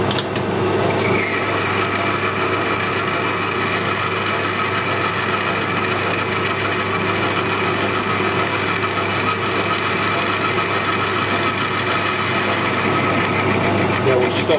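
Lathe boring tool cutting a soft aluminium pulley bore under power feed, a steady continuous machining drone with a faint whine, close and constant throughout without breaks.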